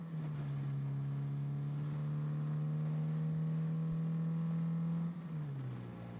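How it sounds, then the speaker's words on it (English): A loud car engine in a video game drones at a steady, sustained pitch for about five seconds, then drops off slightly near the end, with no talking. "This car's loud."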